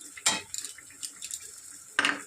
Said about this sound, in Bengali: বড়িটা আবার ঢেলে দিলাম দিয়ে আর নেড়ে দেবো